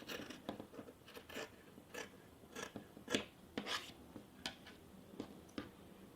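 Scissors trim excess fabric from a pressed skirt hem, giving a series of quiet, close snips and rasping cuts at an irregular pace with no talking.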